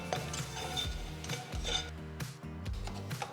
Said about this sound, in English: Roast the raisins just for about a minute